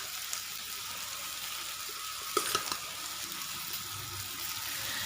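Rice fries in a pan in a South Indian home kitchen, a faint steady sizzle with a few brief stirring clinks partway through.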